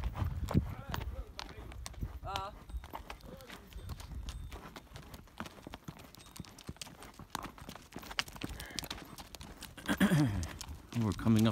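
Horse hooves clip-clop steadily on the Petra trail in Jordan during a horseback ride, close and moderately quiet, while a rider talks over the plodding rhythm.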